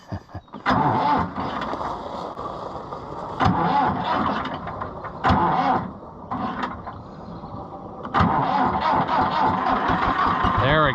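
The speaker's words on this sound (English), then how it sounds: "it'll take a lot of cranking probably to get it to take off" An ailing IH International 584 tractor engine cranks repeatedly in loud mechanical bursts with brief gaps, then keeps running steadily near the end; voices talk over it at times.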